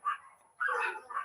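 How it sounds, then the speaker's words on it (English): A couple of dogs bark in bursts, a loud yap followed by a fuller run of overlapping barks, close and fairly strong against a quiet room during a live broadcast. "apologize for the dogs barking"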